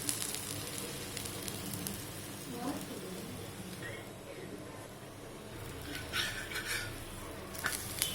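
Ragi spinach adai cooking in a little oil in a pan, a soft steady sizzle with occasional clinks of a utensil, heard under a person talking.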